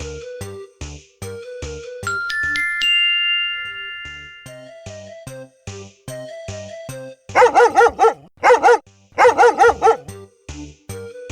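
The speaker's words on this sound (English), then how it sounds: "He barked and barked and barked until Henry's mother opened the door." A dog barks in a storybook-style sequence, with a burst of loud, close, repeated barks in quick clusters set among bright musical notes and chimes.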